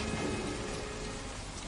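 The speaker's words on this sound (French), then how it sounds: "On entendait des gouttes de pluie sur le zinc." Steady rain patters on a zinc roof, a dense, continuous wash of drops with no voices.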